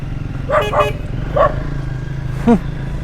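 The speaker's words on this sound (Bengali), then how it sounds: "বাপরে কুকুরে তাড়া করছে তো আমাকে" Dogs bark while chasing a motorcycle on a mountain road near Bumla Pass, several short sharp barks spaced across a few seconds over a steady low engine drone.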